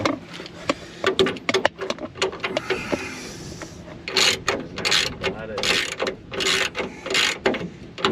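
Ratchet tightening the top bolt of a rear shock absorber on a 2000 Ford F-250, a close series of rapid metallic clicks in repeated strokes, with loud bursts of faster ratcheting in the second half.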